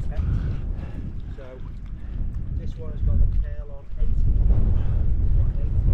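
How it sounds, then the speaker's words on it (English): Strong wind gusts buffet the microphone at a wild camp beside a lake in the Lake District, a continuous low rumbling roar that swells louder partway through, with faint talk underneath. "just the gusts are just coming right across there like that"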